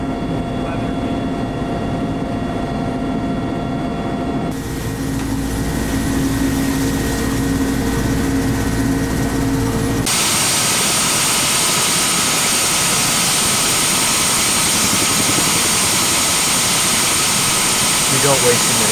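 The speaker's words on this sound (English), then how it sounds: "The helicopter started circling and we've lost altitude." Loud, continuous helicopter engine and rotor roar from inside the cabin as it circles and loses altitude, shifting in tone partway through as the aircraft maneuvers.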